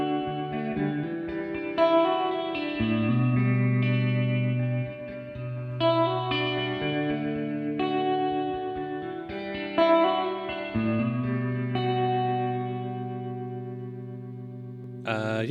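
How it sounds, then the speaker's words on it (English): Electric organ chords through a Hammond organ guitar amp, drenched in small vibrato chorus and reverb, swirling and echoing as the notes sustain and shift. "I just do the vibrato small, vibrato chorus, and reverb 1 and 2"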